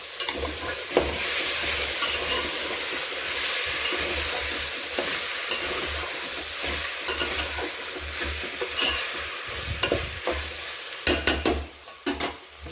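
Potatoes and peas stirred and fried in a pan for masala rice, a steady close sizzle broken by spatula scrapes and a few clinks near the end, no talking.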